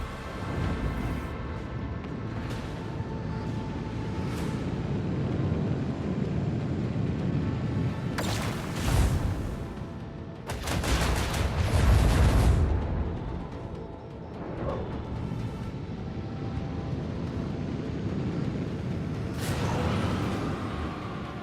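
Ship torpedoes launch and detonate in the Warhammer 40000: Rogue Trader space combat game, with sharp broadband bursts and rumbling booms clustered over a low mechanical hum, several loud blasts spaced through a long stretch without talk.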